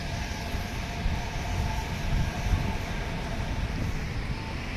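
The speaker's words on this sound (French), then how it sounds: "je suis en train de longer le monorail qui est tenu par la tête là" Monorail train passing along an elevated track in Chiba, Japan, a steady broad rumble and whoosh that swells slightly mid-pass, heard close with no talking.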